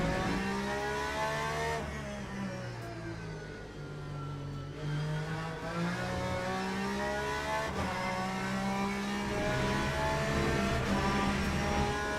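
A GTE race car in the Le Mans Ultimate sim roars through gear changes, the engine pitch climbing and dropping repeatedly across upshifts and downshifts, loud and continuous with no talking.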